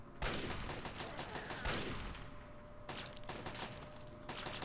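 Rapid gunfire in Fallout 3 as enemies and a turret shoot at the player, dense crackling bursts that rise at the start and again near the end, loud and continuous with no talk.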